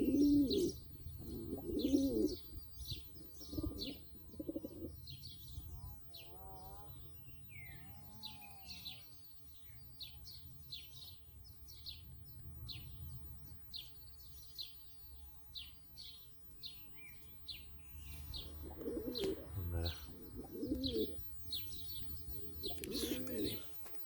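Pigeons and their squabs in a loft coo in repeated, rolling bursts close by, with soft chirps and peeps from the young between the coos.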